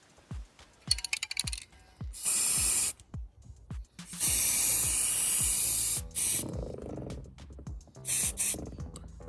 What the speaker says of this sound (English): So now all I'll do is spray paint the main body and the drill head.